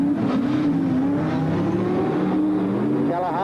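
Big speedway cars at 1979/80 Bagot Park Speedway roar past, a loud droning engine note rising and shifting pitch as they pass close by, with a commentator talking over it.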